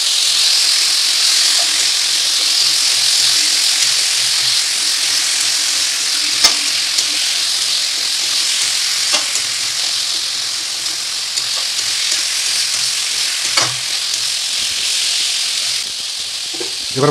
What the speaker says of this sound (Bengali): এবার বন্ধুরা নেড়ে নেবো একটু